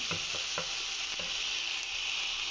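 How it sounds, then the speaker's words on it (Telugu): Palak paneer curry sizzles in a pan, a steady bright frying hiss with a few soft scraping stirs near the start. "పచ్చిదనం అంతా పోయిన వరకు బాగా వేగనివ్వండి పాలక్ పన్నీర్ కూర"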